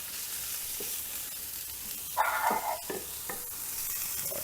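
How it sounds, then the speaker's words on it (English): Onion softening in a pan gives a steady soft sizzle, joined midway by a few louder clatters and scrapes of a utensil. "So just gonna soften some"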